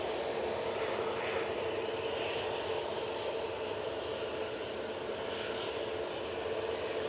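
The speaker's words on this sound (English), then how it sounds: "let's get this TUI. It's just about to touch down on 23 right" A TUI airliner touching down on runway 23 right at Manchester Airport gives a steady, moderately distant engine roar that holds evenly throughout with no voices.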